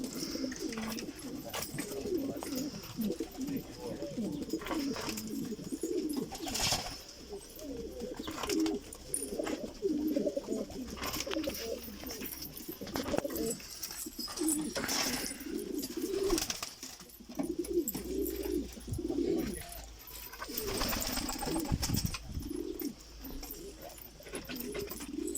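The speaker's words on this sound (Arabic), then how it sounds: "هاي طيور لسه ما لنا مطلعينها لسه على برا، يعني هذين لساتهم جدد." Young domestic flying pigeons kept in a loft coo repeatedly at close range, soft throaty calls overlapping in an uneven rhythm, with a few faint rustles and wing sounds and some distant background noise.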